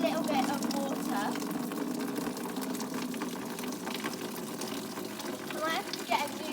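Water running into an old, sun-faded bucket at a new stable, a steady rushing pour that stays loud throughout with someone talking over it.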